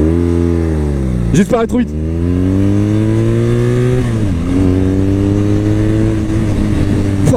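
A 2022 BMW R nineT Pure motorcycle engine revs up and down close by, its pitch climbing and falling over a steady idle, with a brief spoken remark over it.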